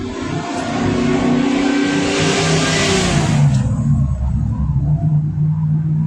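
A car engine revs loud and close, a steady roaring rumble that swells and holds for several seconds before easing slightly, with no talk over it.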